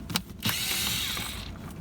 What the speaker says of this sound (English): The only thing you have to do is take these two screws out. It's just a Phillips screwdriver.